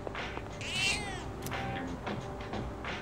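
A cat meows in the video game Persona 3 Reload, one drawn-out mid-pitched meow rising and falling near the middle, with soft game ambience and brief chimes around it.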